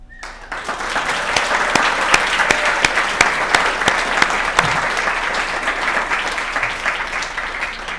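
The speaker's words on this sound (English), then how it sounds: "I think applause is important" Applause at an awards banquet: a roomful of people clap steadily and warmly for several seconds, with sharp individual claps standing out near the microphone before it slowly tapers.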